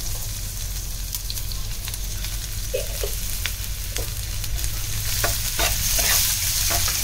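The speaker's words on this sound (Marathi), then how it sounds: "मोठ्या गॅसवरच मी परतून घेते आहे" Garlic, green chilies and ginger sautéing in a pan over a high flame give a dense, continuous sizzle, punctuated by sharp stirring scrapes that grow busier toward the end.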